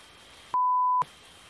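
A single clean beep, a pure steady tone lasting about half a second, stands out loud against a quiet background hush.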